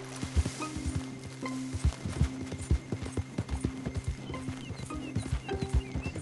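Horse hooves clip-clopping in Red Dead Redemption 2, a steady walking rhythm of distinct thuds close by, with a brief snort and faint ambient game sounds underneath.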